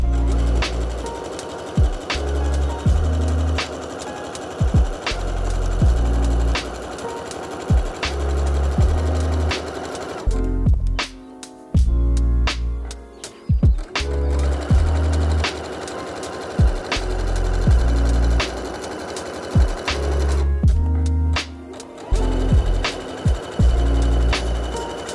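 Domestic sewing machine stitching a leggings seam, with steady rapid whirring runs broken by short pauses and clicks as the fabric is repositioned, close and fairly loud.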